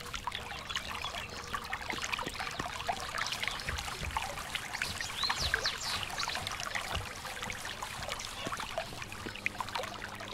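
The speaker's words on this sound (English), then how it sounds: "You cannot hear much because it's for the water." A looping water effect from a medieval RPG game, a soft, steady trickle and pour of flowing water with faint dribbling detail, held at a low level throughout with no voices.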